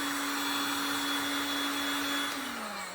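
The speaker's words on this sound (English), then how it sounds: "I'm going to use a heat gun, make sure everything's nice and dry" A heat gun drying leather boots blows with a steady close whine and rushing airflow, a sharp constant tone that droops in pitch as the motor slows near the end.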